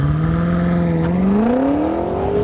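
BMW M5 with a torque-converter automatic, held on launch control with brake floored, drones at a steady high rev that then climbs, loud and close with no voices.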